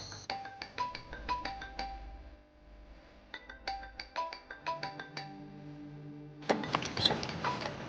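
A phone ringtone plays in a house, a repeated bright melodic pattern of quick tones in two bursts, moderately near, followed by a louder noisy stretch at the end, with no speech.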